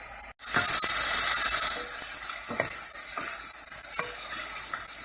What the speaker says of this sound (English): now I'm adding the bacon. And I'm going to let it melt a little bit.